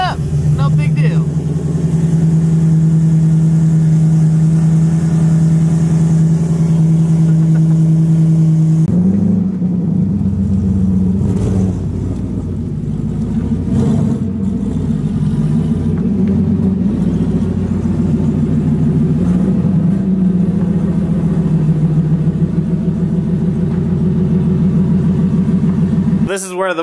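A Ford Mustang engine idles steadily and loudly right after starting, a continuous low rumble that holds throughout with slight shifts in tone partway through.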